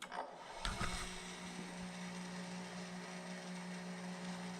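A restored Christen drill grinder starts up close by with a brief clunk, then runs with a steady, quiet, even hum.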